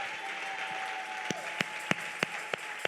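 Applause acclaiming the Lord sounds faintly beneath steady background noise, with a handful of distinct, evenly spaced claps standing out toward the end.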